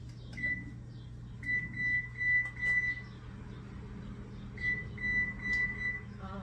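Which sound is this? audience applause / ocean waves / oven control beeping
oven control beeping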